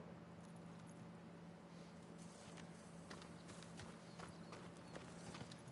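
A farm horse's hooves clop at a steady walking pace over a constant low hum in the video game Ghost of Tsushima, the rhythmic footfalls fairly close and moderately loud.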